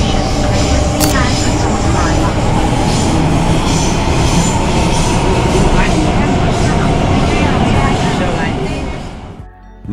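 A Hong Kong metro train rumbles steadily at loud volume, wheels squealing faintly now and then. Voices murmur underneath before the noise drops off near the end.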